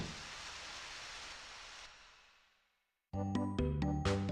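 Rain falling in the farming video game Harvest Moon Back to Nature, a steady broadband hiss that fades out to silence, then gives way to plucky game music.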